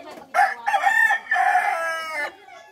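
A rooster crows nearby in one long, loud, strained cock-a-doodle-doo call with several rising and falling segments, then falls quiet.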